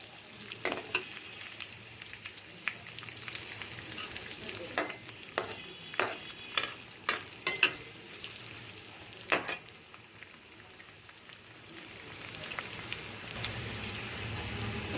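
Cashew nuts and green chillies fry in a pan for coconut rice, a continuous soft sizzle broken by a run of sharp, rapid spoon-on-pan scraping knocks in the middle, close and without speech.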